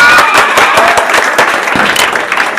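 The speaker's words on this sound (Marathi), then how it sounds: "जोरदार टाळ्या 10वीसाठी." A school assembly gives loud applause for the tenth-grade students at a prize announcement. Dense, vigorous clapping from a large group of children runs steadily and close throughout.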